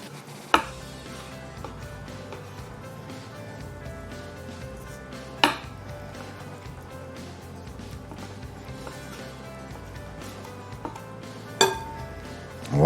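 Knife chopping yellowfin tuna into small cubes for poke, soft repeated cuts on a board with a few sharp knocks, close and moderately loud.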